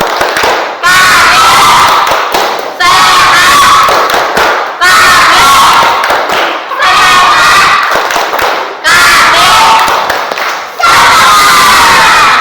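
Fifth-grade schoolchildren in a classroom perform a loud group clapping chant, shouting in bursts of rhythmic claps and cheers separated by brief pauses.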